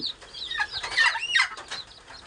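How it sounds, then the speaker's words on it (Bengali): Layer chicken chicks cheep in high, rapid, overlapping peeps, several calls within a couple of seconds, close and clear with no talk. "এই যে টাইগার মুরগির বাচ্চা, লেয়ার মুরগির বাচ্চা কিনছি"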